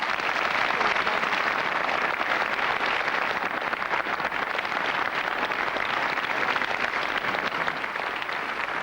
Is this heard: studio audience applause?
yes